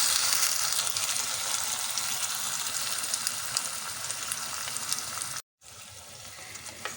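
Chopped tomatoes sizzle steadily in hot oil with browned onions for a dhaba-style dal, a dense continuous frying hiss near at hand that cuts out briefly for a split second before resuming.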